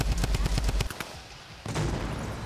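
Rapid heavy shotgun blasts from a Fortnite match at a live PAX esports event, a dense volley of loud booming shots that stops short, then another burst of firing and noise picks up.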